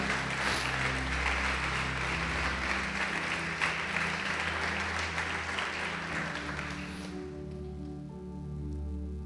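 Church congregation applauding during a Portuguese-language sermon, a dense steady wash of clapping that holds for about seven seconds and then drops away, leaving a low sustained organ-like hum underneath.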